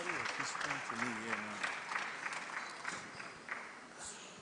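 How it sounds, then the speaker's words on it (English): Applause from an audience at a regional maritime conference session in Africa, a steady wash of clapping that begins under a speaking voice and continues alone, moderately faint and distant. "Please, a round of applause to also encourage him."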